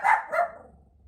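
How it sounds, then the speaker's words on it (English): A dog gives two quick close barks, the second slightly softer, and then falls quiet. "I'm so sorry about my dogs barking."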